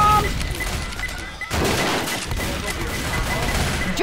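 A pipe bomb goes off in the Left 4 Dead video game amid loud, dense gunfire and crashing bursts, with a sharp blast near the middle, close and chaotic.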